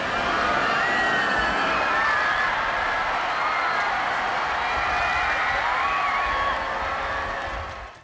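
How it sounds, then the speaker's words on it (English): A large crowd roars and cheers continuously as Pope Francis arrives in Manila, Philippines. The dense, sustained cheering carries whistles and shouts and fades slightly at the very end. "The crowd first caught a glimpse of him from the plane's window, and immediately cheers followed."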